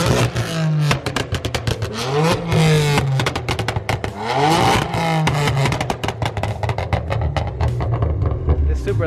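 A 700+ horsepower BMW M3 drift car engine revs hard and loud, rising and falling in repeated bursts with crackling, rattly texture, close by and dominating throughout.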